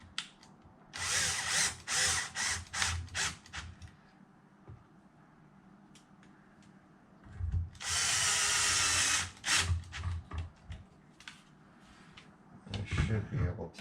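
A power drill drives screws into an RC car chassis on a Kraton 8S, several short whirring bursts followed by one long steady run, close and loud, with clicks, rattling parts and occasional talk between.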